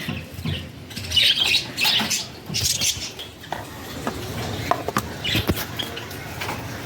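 Pet birds in a cage chirp and squawk close by in bright, busy bursts, with light clattering and tapping from the cage as it is handled during winter care.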